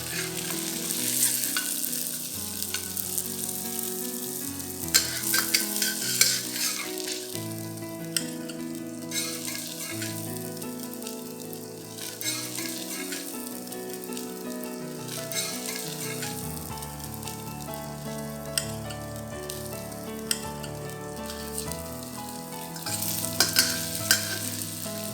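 Tofu frying in a pan for chili bean sauce, a steady broadband sizzle with crackles and some stirring clatter running throughout, fairly loud and with no voices.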